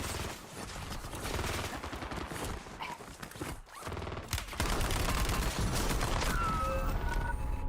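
Dense, continuous gunfire from a Call of Duty Black Ops Royale match fills the whole stretch, with rapid bursts layered over one another and no pauses, loud and close and growing heavier toward the end.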